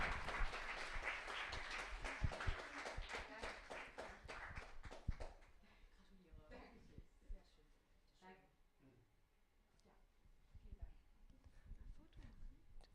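An audience applauds a second-place photo contest winner at a China Time weekend event. Crisp clapping rings out at first, then thins to scattered claps and shuffling, with people talking quietly.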